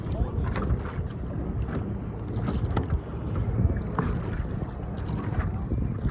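Outdoors among many boats on shallow water, wind buffets the microphone and water washes and splashes continuously, with faint boat sounds in the background.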